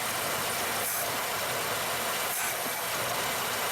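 A Ford Ranchero engine idles and begins to stall, giving a steady, rough, noisy rumble that holds at an even level throughout, with no voices.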